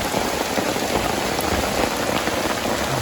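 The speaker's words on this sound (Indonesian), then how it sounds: "Tiba-tiba diguyur hujan teman-teman." Heavy rain pouring down at a bamboo-forest campsite, a dense, loud, continuous wash of drops with no voices.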